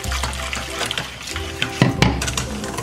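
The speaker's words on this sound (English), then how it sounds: "gonna gradually add my water in while stirring" Water poured gradually into ground flaxseed in a bowl while stirring for a vegan rum cake, giving a steady close trickle and splash with stirring clatter and a couple of sharper knocks near the end.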